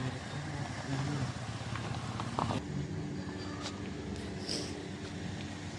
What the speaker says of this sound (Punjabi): ਅੱਗੇ ਦੋ ਬੰਦੇ ਮੋਟਰਸਾਈਕਲ ਤੇ ਆਉਂਦੇ ਨੇ